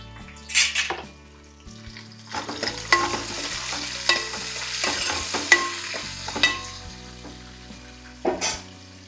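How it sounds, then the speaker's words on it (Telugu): Carrot and tomato fry in a pan for a raw mango dal, with a close, steady sizzle broken by repeated scraping stirs and light knocks of the spoon against the pan. "అలాగే కాస్త క్యారెట్ ఇంకా ఒక టమాటా వేసేసి వేగనివ్వాలి"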